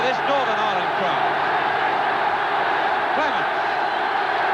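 Football crowd at Windsor Park in Belfast for Northern Ireland v England in 1971, a dense, continuous roar from the stands with rising shouts and whistles, steady and loud throughout.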